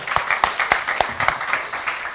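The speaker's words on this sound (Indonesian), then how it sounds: "Boleh tepuk tangan untuk Mas Fahmi." Brief burst of audience applause for a debate participant, a dense patter of clapping with several distinct sharp claps standing out over the crowd.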